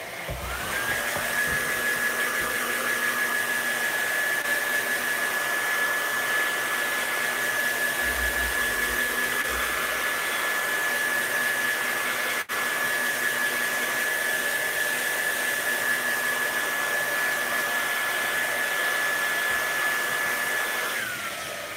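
A hair dryer on its cool setting blows steadily for over twenty seconds, a loud, even whoosh with a faint high whine, drying a handmade Valentine card with tape on it.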